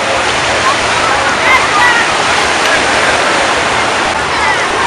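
Steady, close splashing and rushing of cold sea water at Ustka, a continuous broadband wash with no clear breaks.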